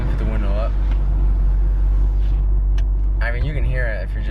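Car fitted with a Magnaflow performance muffler cruising steadily at 30 mph, its low engine and exhaust drone constant and close from inside the cabin, with a voice briefly talking over it.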